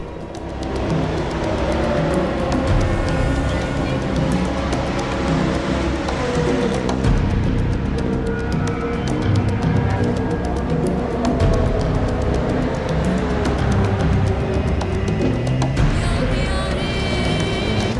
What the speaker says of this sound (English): The M3 goes out again on the racetrack.